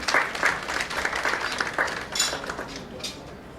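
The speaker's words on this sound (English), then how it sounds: "A big round of applause to Dr." Audience applause at a workshop on AI for school teachers held by St. Soldier Group of Institutions, a steady patter of clapping at moderate distance for a few seconds that thins out toward the end.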